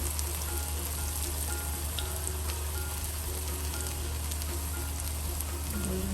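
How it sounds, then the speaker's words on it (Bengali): Flower pakora frying in hot oil, a steady dense sizzle and crackle that holds at an even level throughout, close and continuous with no talking. "পেঁয়াজ করে ভেজে নিচ্ছি"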